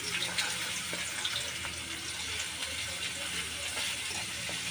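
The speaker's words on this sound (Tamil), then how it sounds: "எண்ணெய் காஞ்சிச்சு, நம்ம ஆனியன் போட்டுக்கலாம்." Sliced onions sizzling in hot oil in a pan while cooking a mushroom gravy, a steady close crackling hiss with small pops throughout and no talking.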